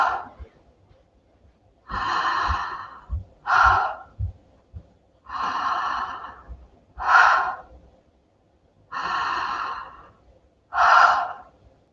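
Deep breathing exercise breaths come in four slow cycles, each a long audible inhale followed by a shorter, forceful exhale, close and clear with quiet pauses between.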